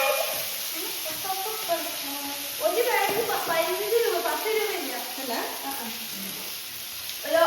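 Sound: mustard seeds spluttering in hot oil

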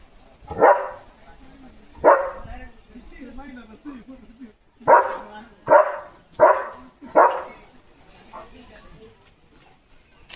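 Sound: German Shepherd dog barking at cattle

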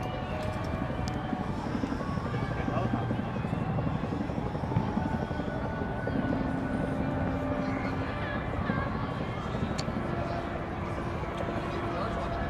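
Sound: helicopter flying overhead

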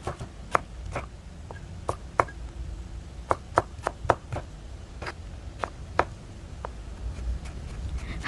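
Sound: chopping carrot into cubes with a knife

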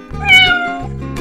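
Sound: cat meowing

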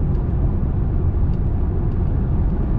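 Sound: Hyundai Ioniq 5 driving on highway with driving assist

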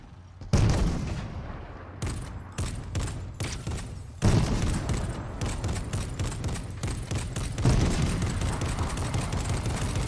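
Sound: gunfire in a video game

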